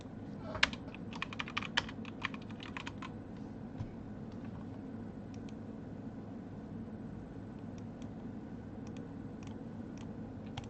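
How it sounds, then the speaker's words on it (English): Typing on a computer keyboard, a quiet patter of clustered key clicks in bursts, heaviest early and then sparser, close by with no talking. "Right now I'm literally just typing in names."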